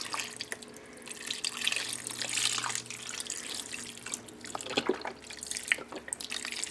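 Vegetable stock glugs and splashes from a 32-ounce carton into a slow cooker, a steady close pour with irregular liquid bursts, soft overall and without talk.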